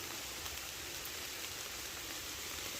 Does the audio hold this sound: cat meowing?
no